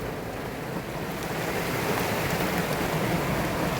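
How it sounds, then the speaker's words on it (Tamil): Heavy rain pours down steadily outdoors, a dense, even hiss that slowly grows louder, with no voices over it. "மழை வெளுத்து வாங்குது"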